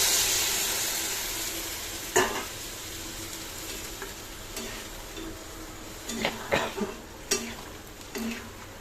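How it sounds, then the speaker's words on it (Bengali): Hot water goes into a hot pan of taro stolon curry, leaving a faint hiss that fades into quiet simmering, broken by scattered clinks and scrapes of a spoon against the pan. "আমি এবার এই গরম জলটা ঢেলে দিলাম।"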